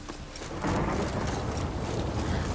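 Rain and thunder in The Witcher 3 video game form a dense, steady wash of falling rain with a low rumble swelling beneath it, all heard without any voices.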